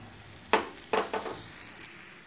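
Sesame oil sizzles around an adai of greens batter on a hot dosa griddle, with three sharp bursts of frying crackle that flare as the oil hits and quickly settle into a faint steady hiss.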